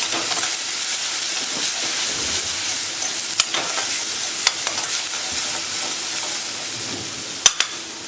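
Salt, turmeric, Kashmiri red chili and Reshampatti red chili being stirred in a hot pan, a steady bright hiss of frying with a few sharp clicks of a spoon against the metal.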